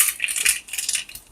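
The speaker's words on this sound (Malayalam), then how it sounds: "കടുക് ഇട്ട് കൊടുക്കാം." Mustard seeds drop into a cooking pan as a curry is started, making a quick burst of faint, high, scattered ticks and patters lasting about a second.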